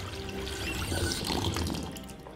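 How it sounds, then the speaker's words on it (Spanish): Tap water runs steadily into a bathroom sink and is splashed onto a face, a continuous close rush with louder splashy bursts partway through, no voices. "Va hacia el lavabo y se echa agua en la cara."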